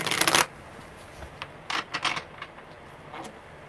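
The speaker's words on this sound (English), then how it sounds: "Okay, this is the last shuffle." A deck of tarot cards gets a brisk riffle shuffle up front, followed by a few lighter bursts of cards sliding and tapping together, close and otherwise quiet.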